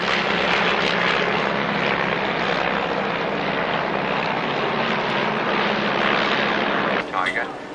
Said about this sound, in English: watch the three aircraft at the back as they come up for a wing over